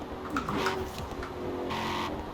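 Koenigsegg CCGT supercar engine in the Forza Horizon 4 racing game, heard from outside the car as a steady, moderately loud drone with shifting tonal whine and no talking.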